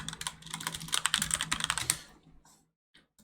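Rapid typing on a computer keyboard, a close burst of crisp key clicks for about two seconds, then a couple of isolated taps after a short pause.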